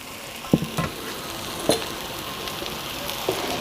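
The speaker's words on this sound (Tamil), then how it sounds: "இப்போ மெதுவாக மறுபடியும் அந்த தவாவிலே தான் இதை போட போகிறோம்." A cheese omelette fries on a hot tawa with a soft, continuous sizzle, broken by a few sharp clicks and taps of a utensil against the pan, and no talking.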